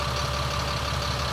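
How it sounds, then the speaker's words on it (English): A Caterpillar engine in a long-parked, city-owned 2000 GMC C6500 flatbed tow truck with low original miles idles steadily. Its low, even rumble runs unbroken and close throughout, with no talk over it. "Caterpillar engine sounds good."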